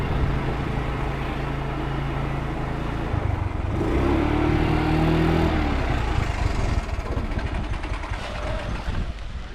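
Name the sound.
motorcycle engine idling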